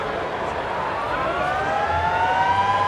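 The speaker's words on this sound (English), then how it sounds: "Siren goes for the break." A long wailing half-time siren at a rugby sevens match in Dubai sounds over crowd noise, its tone sliding steadily upward as it rings out.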